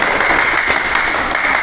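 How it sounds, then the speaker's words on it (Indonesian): Students in a classroom session applaud together, a dense steady wash of clapping close by that fills the short moment without pause. "Ayo tepuk tangannya mana?"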